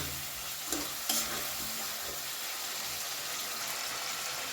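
Mixed vegetables, peas, sugar and spices stir-fried in oil in a pan for daliya, a steady sizzle with a couple of brief scraping stirs near the start, close and moderately loud.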